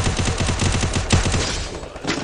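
Rapid automatic gunfire in the mobile shooter Free Fire during a 4v4 match, a fast, evenly spaced burst of loud close shots filling the whole moment with no talk over it.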